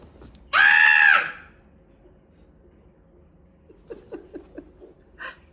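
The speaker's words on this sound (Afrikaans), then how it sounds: "hy gee 'n klipharde gil" A loud, sustained high-pitched scream sound effect in an audiobook, about half a second long and close, followed by quieter short squeaky cries and patter later on.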